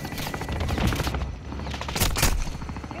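Air support gunfire run in Call of Duty Modern Warfare II, a loud, continuous burst of rapid automatic fire with heavy rumbling low end and sharp cracking volleys, no talking.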